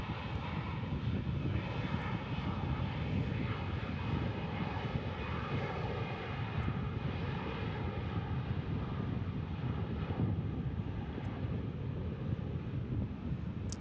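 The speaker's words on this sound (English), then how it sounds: "I believe it's a G4 Gulfstream. Very little time for that sucker to take off." A Gulfstream G4 jet takes off at an airport into a headwind, its engine roar a broad, sustained rush heard at a distance with wind buffeting the microphone.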